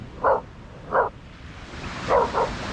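Dog barking at another dog by the sea at Chapel Point on the Lincolnshire coast, four short barks, two spaced apart then a quick pair, moderately close over soft outdoor background noise.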